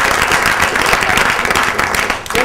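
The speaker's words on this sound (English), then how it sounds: "Let's give her a round of applause." Loud, dense audience applause at a business leaders panel event, a continuous roar of many clapping hands with crowd murmur mixed in, tapering slightly at the very end.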